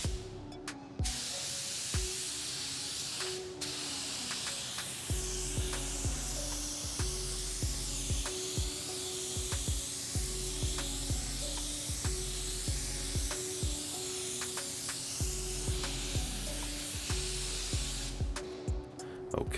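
A spray gun hisses out clear base coat blender over a car panel in a continuous loud spray, broken by regular brief pauses and trigger clicks as the painter makes repeated passes, with no talk.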